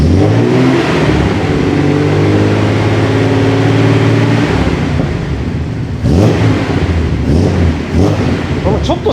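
A nearby Nissan Skyline Hakosuka's L28 engine revs loudly through its exhaust, a strong throaty roar that holds and swells, then breaks into sharper, rougher bursts toward the end.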